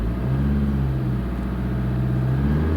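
A car engine runs close by as the accelerator is pressed, giving a loud, steady, low engine drone with a slight lift in tone and no speech over it.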